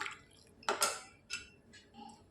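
A spoon stirs salted lentil curry with drumsticks in a pot, giving a few short, close scraping and clinking strokes with quiet gaps between them and no talk.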